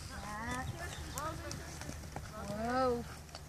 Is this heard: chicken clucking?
no